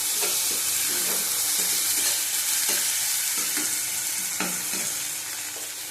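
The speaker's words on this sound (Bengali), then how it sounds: "পেঁয়াজ আমাদের ভাজা হয়ে গেছে। আদা রসুনের পেস্ট দিয়ে দিলাম" Browned onions sizzle loudly in a pan with half a spoon of ginger-garlic paste for a pointed gourd curry, steady frying hiss broken by regular scraping stir strokes about once a second, with no talking.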